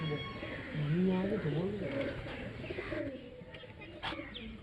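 A heavy Diwo pigeon coos in a low, rolling, wavering call that rises and falls for a couple of seconds, while a person talks nearby and a few sharp clicks follow.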